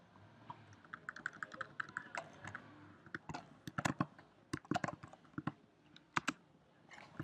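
Code is typed on a computer keyboard for a Flutter e-commerce mobile app, with soft keystrokes and clicks in irregular bursts that grow busier toward the end, close and fairly quiet.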